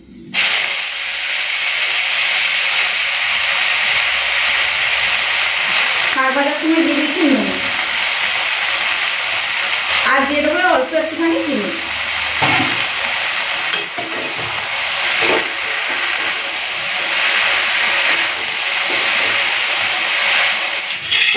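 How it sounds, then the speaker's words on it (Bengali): Red amaranth greens frying in hot oil tempered with black seeds, giving a loud, continuous hiss and sizzle throughout, with a person briefly talking over it. "ভাজা ভাজা হয়ে গেছে এখন লাল শাকটা দিয়ে দিই"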